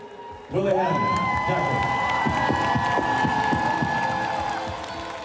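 A concert crowd in a sports palace roars from the stands, loud cheering and whoops swelling suddenly and holding steady before easing off slightly toward the end.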